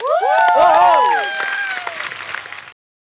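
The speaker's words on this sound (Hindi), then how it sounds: "जोरदार तालियां।" A television comedy talk show studio audience bursts into loud applause and cheering with high whoops and whistles, peaking early then fading over under three seconds before abruptly cutting off.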